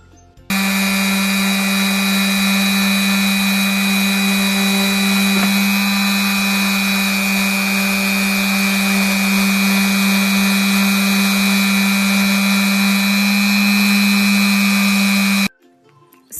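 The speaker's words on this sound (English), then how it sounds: "this sander's a little bit different. It has a different shape, but it's really great for getting into tight corners" A compact, corner-reaching power sander works a wooden ledge, a steady close whirring drone running without a break for about fifteen seconds before cutting off, with no voices over it.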